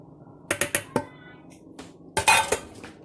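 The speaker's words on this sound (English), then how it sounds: "We're also going to add in our hamburger that we cooked off." Cooked hamburger meat going into an Instant Pot, heard as a few sharp clinks of a utensil against the metal pot, then a short pause and another cluster of scraping knocks. The sounds are fairly close and there is no speech.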